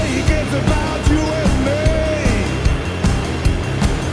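Four-stem music mix run through the Denise Audio Dragonfire push-pull compression plugin, with punchy low-end beats and a gliding synth-like melodic line. The whole track is steady and loud, with sharp transient hits recurring throughout.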